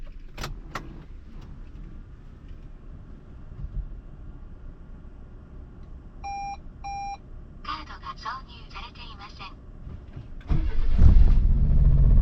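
A car engine cranks and catches near the end after keys jangle, a couple of electronic beeps and power-window whirs, set against steady background traffic and murmuring voices outdoors.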